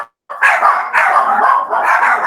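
Dogs barking in a steady, continuous burst of overlapping yaps and barks close by, loud and sustained after a brief silent start, with no talking.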